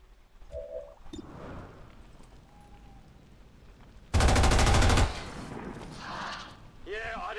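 A burst of automatic gunfire in XCOM 2, about a second long, fires loudly and continuously midway through, with quieter game ambience and brief effects around it.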